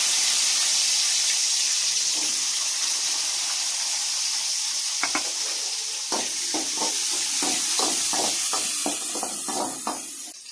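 Chopped onions drop into hot oil where mustard seeds and fennel have already spluttered, giving a steady loud sizzle with a burst of crackling pops and stirring clicks through the second half.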